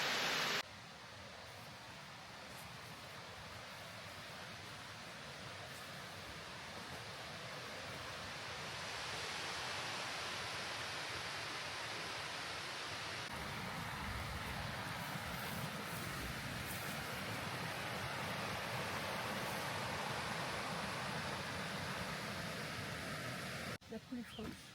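A waterfall near Lac des Cordes in the Hautes-Alpes, heard as a steady, broad rushing roar that holds for the whole stretch and swells slightly partway through.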